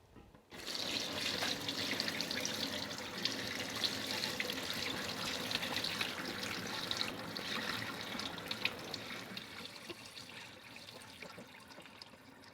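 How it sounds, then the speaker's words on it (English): Liquid whey from homemade cheddar curds being poured through a fabric-lined strainer into a sink, a steady rushing splash that starts abruptly and runs continuously, close and fairly loud, tapering slightly at the end. "I'm going to use all my strength to just decant off all of that liquid whey"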